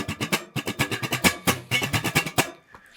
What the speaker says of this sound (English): using the percussive options in the guitar by strumming the muted strings